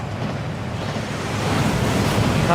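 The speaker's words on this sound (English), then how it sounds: "That waterfall washes away all enchantments." In the Hogwarts Legacy video game, a waterfall pours in a dense, continuous rush of water that swells slightly louder toward the end, with no voices over it.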